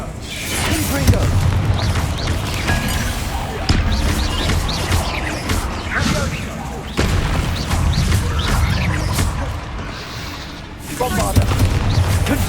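Confringo blasting spells explode repeatedly in Hogwarts Legacy, several heavy booms and crashes spaced a few seconds apart amid continuous combat noise, with a voice talking over the blasts.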